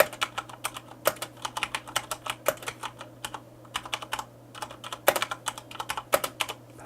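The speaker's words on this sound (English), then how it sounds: "Hard for me to type slow." A Corsair K70 RGB MK2 mechanical keyboard with Cherry MX Brown switches is typed on steadily up close, with crisp, rapid key clacks in bursts and no voices.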